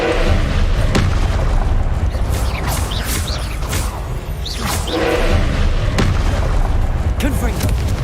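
Confringo and Depulso spell blasts go off repeatedly in the video game Hogwarts Legacy, with deep booming explosions, whooshes and mechanical creaks forming a loud, dense, continuous barrage.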